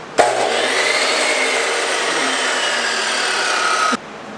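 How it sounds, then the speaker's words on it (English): Chop saw cutting a mud flap in a garage working on a turbo LS Mustang, a loud, steady whining buzz that starts abruptly, holds for about four seconds and cuts off sharply. "The chop saw is gonna hit it."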